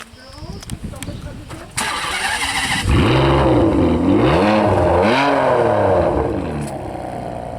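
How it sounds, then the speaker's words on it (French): A car engine cranks, catches and starts, then revs up and down in several loud, close surges while people talk nearby at a supercar meet. "il a un peu du mal à la démarrer"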